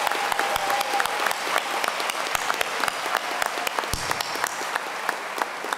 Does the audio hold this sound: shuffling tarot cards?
no